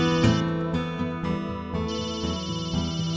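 A telephone rings indoors with a bright, repeating melodic ringtone pattern, loud and close, with no talking over it.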